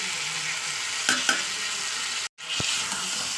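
Meat cooking in hot oil with garam masala powder, sizzling steadily up close and briefly stirred, with a short break in the sound partway through.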